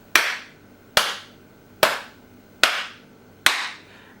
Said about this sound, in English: So let me clap 5 times real quick.